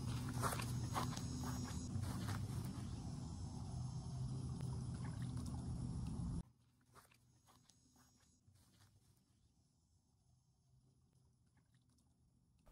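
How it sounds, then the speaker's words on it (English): Artificial nature sound effects of footsteps on grass with rippling water, dense crunching steps and watery trickles loud for about six seconds, then dropping abruptly to a faint, sparse version of the same scene. "I also enhanced the sound of my footsteps on the grass and made some water ripple noises"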